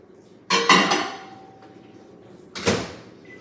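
A spoon stirs melting chocolate for pumpkin pie spice chocolate bark in a pot, giving two sharp metallic clanks about two seconds apart with short ringing decay against quiet kitchen background.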